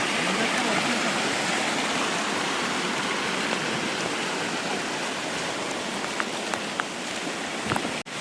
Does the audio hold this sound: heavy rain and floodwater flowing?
yes